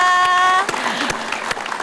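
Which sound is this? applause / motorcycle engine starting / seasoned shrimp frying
applause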